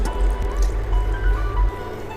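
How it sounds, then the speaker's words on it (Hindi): Water is poured into frying masala in a pan while cooking fish curry, a short soft liquid trickle and splash with low sizzling underneath. "अब इसमें हम पानी डालेंगे।"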